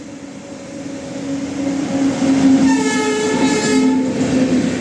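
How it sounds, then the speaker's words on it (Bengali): A train pulls into a station on a route toward Howrah, its loud rumbling rolling stock steady throughout while a sustained horn sounds near the middle of the passage. "চা পান করে নিলাম তারপর ট্রেন এসে গেল আমাদের"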